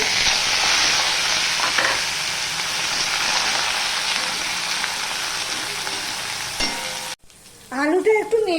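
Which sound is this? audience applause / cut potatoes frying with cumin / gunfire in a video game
cut potatoes frying with cumin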